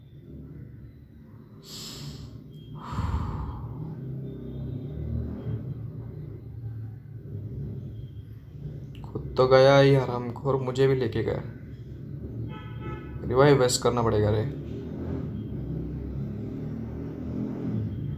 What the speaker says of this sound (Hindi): कौन राइडर है साला, रोज इधर से गाड़ी लेके जाता है फालतू जैसा चला चला के।